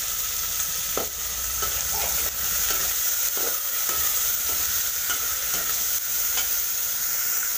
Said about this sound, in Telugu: ఇట్లా కలుపుకోవాలి దీన్ని బాగా. ఇప్పుడైతే టమాటాలు వేసిన.